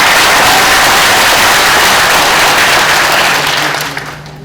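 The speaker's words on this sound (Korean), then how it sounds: "큰 박수." An audience at a National Assembly forum breaks into loud, dense applause, many hands clapping at once in a roomy hall, sustained before fading out near the end.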